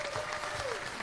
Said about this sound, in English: How about a round of applause for Mr. Jerry Jarrett?